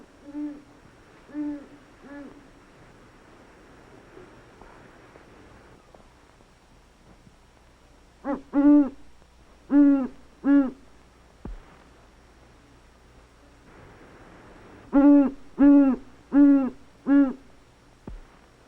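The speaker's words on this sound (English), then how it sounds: "When the great horned owl speaks, woodland creatures everywhere should tremble." Deep, resonant great horned owl hoots repeat in rhythmic series with quiet gaps between them, clear and fairly close against a faint background hiss.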